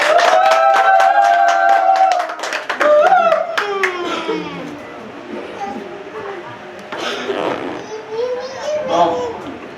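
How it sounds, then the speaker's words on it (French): A small audience at a French family dowry ceremony claps in a brief burst of applause, followed by voices and some children talking, with a few scattered claps later on. "Vous m'applaudissez,"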